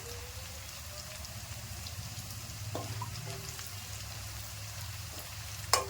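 Tomatoes hit a pan of browned onion and garlic for a lake fish curry, setting off a steady, moderately quiet sizzle and frying crackle with a few light scraping and stirring clicks. No one speaks.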